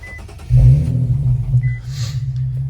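A 3.7-litre Infiniti Q50 engine cranks and fires up close by, a loud deep rumble surging at once into a brief rev, then settling into a steady, throaty idle.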